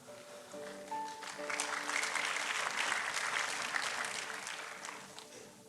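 A congregation applauds during a sermon at an online church service. The clapping swells after about a second into a steady, fairly soft wash from many hands, with a brief voice or tone at the start, then tapers near the end.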